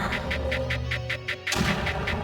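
Mortars fire in the Creeper World strategy game, a steady train of evenly spaced muffled thumps over a humming game backdrop, ending in a louder burst of impact noise.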